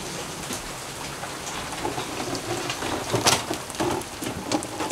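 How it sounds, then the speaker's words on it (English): Steady rain patters on a surface nearby aboard a sailboat, a dense hiss of drops with occasional louder splats, no one speaking. "it started raining."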